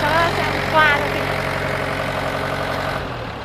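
Yanmar FX305 tractor with a four-cylinder engine idling close by in a steady, loud diesel rumble that fades as it shuts down near the end, with someone talking over it.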